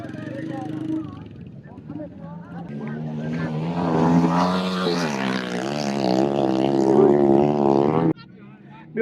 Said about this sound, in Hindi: मोटरसाइकिल जी रेस लॻल आहे